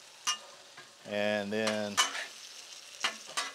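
Asparagus frying on a Blackstone griddle, with a soft steady sizzle broken by several sharp scraping and stirring strokes of a utensil on the hot surface, and a brief voice partway through.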